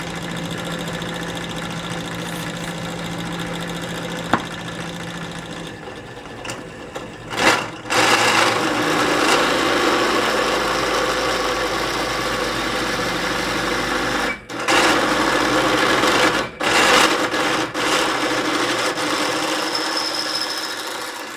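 Electric drill boring an 11 mm hole partway into metal for a pull-up bar, a steady high whine with a few brief stops and restarts, loud and close.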